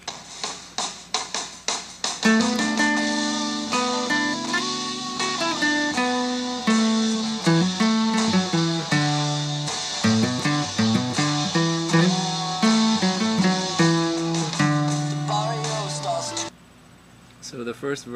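Acoustic guitar strumming the chords of a song along with the song, steady rhythmic chording that carries throughout before cutting off sharply near the end.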